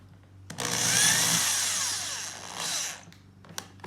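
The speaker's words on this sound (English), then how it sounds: "You're gonna take your drill gun with the self-tapping screw and just drill it in" A power drill whines loudly for about two and a half seconds as it drives a self-tapping screw into a mounting hole, pitch sagging under load, followed by a few clicks.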